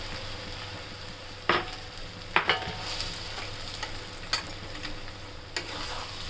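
Fish roe sizzling in oil in a pan: a soft continuous fry with a few sharp scrapes and taps from stirring at irregular intervals, fairly quiet, with no speech.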